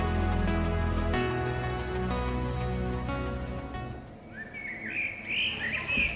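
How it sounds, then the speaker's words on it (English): Native birds chirp and whistle in a dawn chorus on the Milford Track over a steady droning background, with bright warbling calls growing clearer toward the end. "Day 2 wakens to a dawn chorus of native birds"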